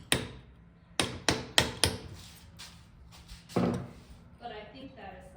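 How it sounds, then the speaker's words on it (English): Hammer and punch striking a 1996 Jeep XJ Dana 30 axle joint during repair, a rapid series of sharp metallic blows, then scattered single hits and faint clinking, close and loud in a quiet workspace. "Alright, hammers and punches."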